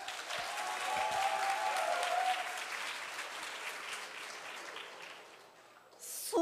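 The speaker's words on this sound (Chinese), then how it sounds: "掌声不够啦" Applause from a small audience during a student demonstration of Chinese opera singing, soft and steady with a faint sung tone early on, fading before a brief louder burst at the end.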